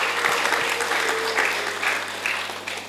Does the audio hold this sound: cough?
no